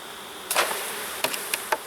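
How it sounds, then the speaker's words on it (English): Honey bees droning steadily as they are shaken from a frame down into a hive, a continuous buzz broken by a few sharp knocks and bumps, close by, with no talk. "I'm going to shake these bees inside the hive"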